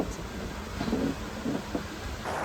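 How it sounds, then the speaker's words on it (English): A steady, low roar of heavy traffic on the M6 motorway rumbles continuously in the background, with no voices. "That's the M6 behind us. Talk about noisy."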